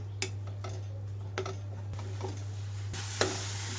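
Grated carrot fries in a pan on medium flame for carrot rava laddu, a spatula scraping and clinking against the metal every second or so over a continuous sizzle and a low steady hum.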